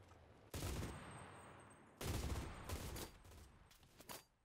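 Long, rapid bursts from an MG42 machine gun in the World War II shooter Enlisted, a ripping stream of fire in two main volleys followed by shorter bursts, loud and close.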